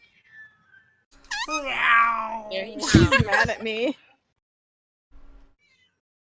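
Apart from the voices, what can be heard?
cat meowing loudly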